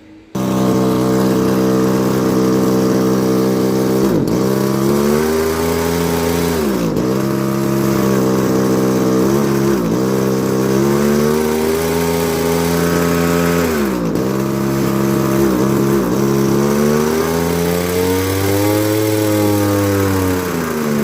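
A Kawasaki TF22 brush cutter, about fifteen years old, runs steadily after starting, its small two-stroke engine droning loudly and close for twenty seconds, with repeated dips and rises in speed.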